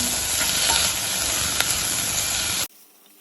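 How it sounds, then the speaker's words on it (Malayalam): Soya chunks masala being stirred in a hot pan, Kerala style, with a dense continuous sizzle and scraping close by that stops suddenly near the end. "ഇളക്കി കൊടുക്കാം."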